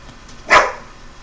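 A single sharp dog bark, fairly close, over a quiet room background.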